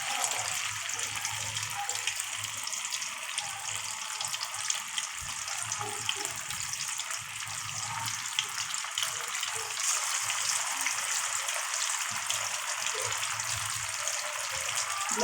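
Chicken pieces frying in hot oil, a steady crackling hiss that carries on for a long stretch at moderate volume, with faint low clatters underneath.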